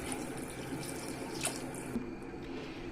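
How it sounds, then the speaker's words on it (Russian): Cold tap water runs steadily into a kazan cooking pot, a continuous close splashing and gurgling rush that eases slightly toward the end, with no talking. "мы ставим в казан и наливаем воду, холодную воду."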